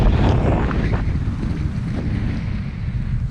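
Strong wind buffets the microphone out on the water from a kayak while fly fishing for trout, a continuous low roar with gusty swells and no speech.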